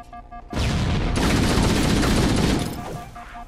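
Assault rifle gunfire in the Halo video game, a dense, sustained burst of rapid automatic shots that fires loud and close for about two seconds before trailing off.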